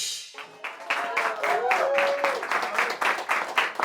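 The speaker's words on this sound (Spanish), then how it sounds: "Ahora, recibamos con un fuerte aplauso a Álvaro Pérez Catar" Audience at a Caracas ideas-café talk event breaks into applause to welcome a speaker, a burst of clapping that rises after a brief pause and continues steadily under a faint voice.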